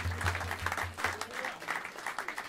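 Audience applause at a jazz club during a live quartet set, a dense wash of clapping at steady loudness with a low sustained tone underneath and faint voices mixed in.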